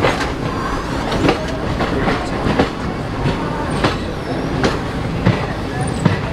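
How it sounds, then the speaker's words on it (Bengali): A long-distance train from Tirupati rolls into Katpadi station, heard from on board. Its steady rumble and clattering wheels are joined by scattered clunks and a faint squeal, with murmuring voices around. "তিরুপতি থেকে 104 কিলোমিটার অতিক্রম করে এই ট্রেন এখন এসে পৌঁছেছে কাঠপাটি স্টেশন।"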